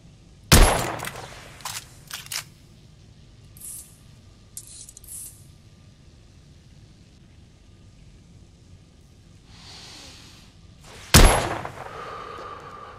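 Gunfire in an alternate-history Victorian London shooter: a sharp loud shot, a couple of quicker cracks and clanks, then quieter stretches of scattered impacts before a second heavy blast near the end.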